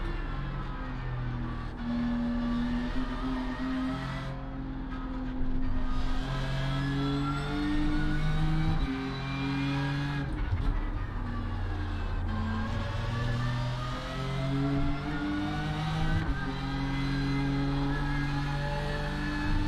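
BMW M4 GT3 race car engine in the iRacing sim, a steady loud drone with rising and falling pitch as the car accelerates, shifts and brakes through corners, continuous for the whole stretch with no voice over it.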